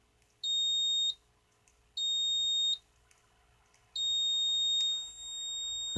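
Three steady high-pitched electronic beeps from a multimeter continuity test, each lasting under a second, spaced about a second apart, clear and close in a quiet room.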